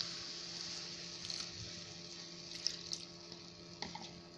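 Water is poured into a pot of sautéed meat and onions, making a steady, faint trickling and splashing that runs through the whole stretch with a few small clinks.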